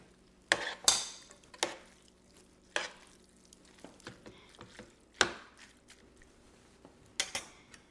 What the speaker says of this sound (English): let's toss this together before we add anything else